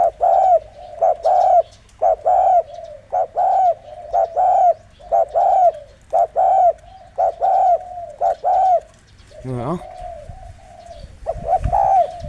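Rhythmic spotted dove cooing repeats in steady, evenly spaced phrases, fairly close and clear, with a brief different call near the end.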